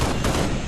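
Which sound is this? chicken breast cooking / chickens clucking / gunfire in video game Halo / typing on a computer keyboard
gunfire in video game Halo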